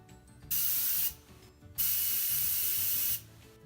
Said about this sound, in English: the spraying of the airbrush